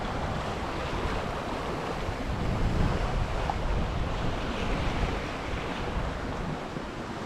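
On a sailboat with full head sail and mainsail between Millport and Campbeltown, strong wind roars across the microphone over a continuous wash of waves, loud and unbroken throughout.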